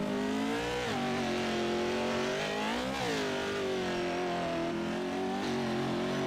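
Simulated race cars in an iRacing event at Crandon International Raceway, engines droning loud and continuous as they sweep through corners, pitch rising and dipping with revs and gear changes, several cars close together.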